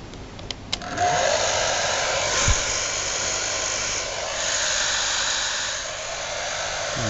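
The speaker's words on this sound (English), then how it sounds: "HB4891 hairdryer." A Philips Salon Pro Ceramic HB4891 hairdryer switches on after a few clicks and blows with a steady, close, broadband whoosh, its airflow shifting slightly in strength throughout.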